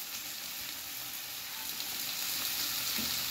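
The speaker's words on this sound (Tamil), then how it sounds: "நம்ம பேனில் இது பீன்ஸு வெங்காயம் தக்காளி எல்லாத்தையும் ஒரு வதக்கு வதக்கி கொஞ்சம் வேக விடுறோம்" Beans, onion and tomato sauté in a pan for beans paruppu usili, giving a steady, close hissing sizzle that holds even throughout, with no talking.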